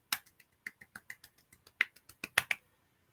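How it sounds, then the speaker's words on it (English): A single person claps by hand in an irregular patter of about fifteen sharp, light, close claps over three seconds, the last few louder. "I'm going to manually clap for our guest"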